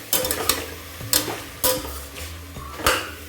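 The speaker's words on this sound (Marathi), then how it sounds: "सर्व मिक्स करून घ्यायचं आहे." Cauliflower and potato curry is stirred in a sizzling pan, with a spoon scraping and clinking against the metal in several close, uneven strokes over a soft background fry.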